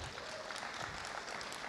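An audience at a business event applauds for the franchise team in a brief, fairly faint burst of steady clapping.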